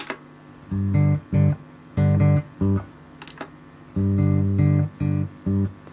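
Bass guitar notes played in short rhythmic bursts, thickened by a smooth reverb that adds a little ambience, with faint clicks between phrases.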